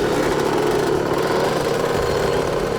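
A motorbike engine runs close and loud with a steady buzzing drone and fine, rapid mechanical chatter, with no voices.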